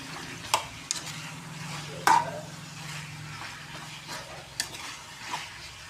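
Tomatoes sautéing in a pan for chutney give a low, steady sizzle broken by a few sharp scrapes and taps of a stirring spoon, with one louder clack about two seconds in.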